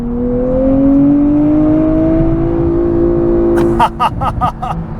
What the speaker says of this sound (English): I was not expecting it to let you hold that red line